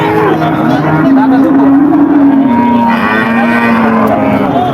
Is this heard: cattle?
yes